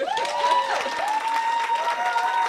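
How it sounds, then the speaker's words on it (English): Conference attendees clap in a short burst of applause, with whistles and shouts riding over the steady patter of hands in a hall. "please clap for me"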